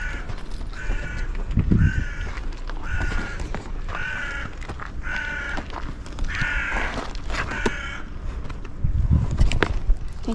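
Crows cawing an alarm outdoors at Giza, a regular series of about seven loud, harsh caws spaced roughly a second apart, close by, with scuffing footsteps and low rumbling noise around them.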